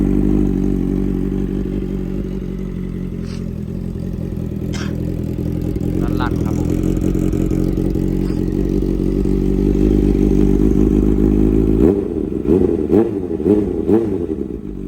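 A 2015 Honda CBR650F motorcycle fitted with a Daivo full titanium exhaust starts up and settles into a loud, steady idle. Near the end there is a burst of throttle blips, and faint clatter and talk run underneath.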